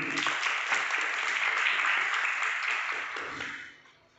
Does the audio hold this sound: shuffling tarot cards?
no